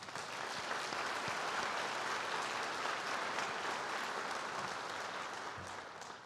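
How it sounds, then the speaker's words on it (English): A large crowd applauds steadily at a high school baccalaureate ceremony, dense clapping holding for several seconds before tapering slightly at the end. "Please give them a round of applause."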